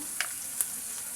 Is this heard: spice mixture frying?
yes